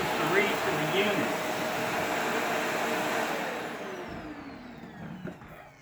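Shark Rotator Professional Lift-Away NV501 upright vacuum cleaner running with a steady, loud broadband whir that gradually eases off toward the end.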